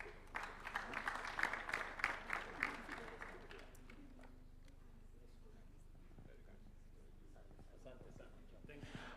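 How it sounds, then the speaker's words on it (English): Audience applause at a Kenyan national vision launch event, a few seconds of crowd clapping that fades out, followed by quiet room tone with faint voices. "Give them a round of applause"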